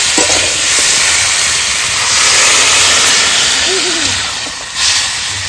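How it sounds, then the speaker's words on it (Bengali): Water poured into a hot pan of sautéed tomato, capsicum and peas sets off a loud, sustained hiss of steam, close and filling the whole stretch. "এবার জল দিয়ে দেবো।"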